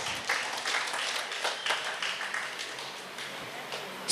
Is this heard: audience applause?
yes